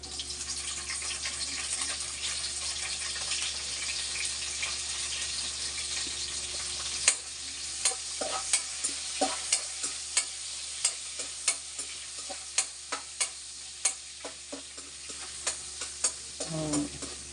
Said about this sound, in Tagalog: Sarap pakinggan yung yung tunog ng gisa.